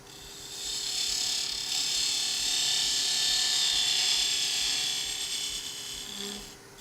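A lathe turns the inside surface of a wooden pepper mill at higher speed, with a steady, bright scraping hiss and a whining hum that hold for several seconds before easing off.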